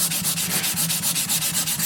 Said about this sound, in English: I'm really hoping this will be the final sanding.